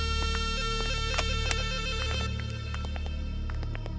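An electronic phone ringtone plays a busy repeating pattern of tones over a steady low hum, continuous throughout.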